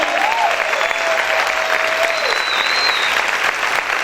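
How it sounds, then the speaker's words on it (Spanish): A church congregation claps loudly and steadily in dense, sustained applause, with a faint voice rising over the crowd. "aplaude fuerte al Señor"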